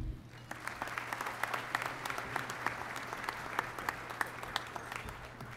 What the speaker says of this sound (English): please join me in a round of applause for the West 2018 Enlisted Superior Performers